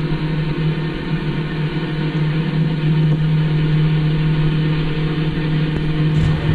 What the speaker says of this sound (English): Backup generator.